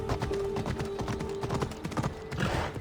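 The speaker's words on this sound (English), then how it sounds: "I need to take this horse either to Adonis or to the stable boy." Horse hooves clip-clop at a steady gait in Assassin's Creed Odyssey, loud and close, with a brief whinny near the start and a busy game soundscape around them.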